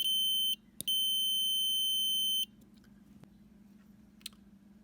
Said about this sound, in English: with our multimeter set on ohms, when we touch the two probes together, we'll get a sound.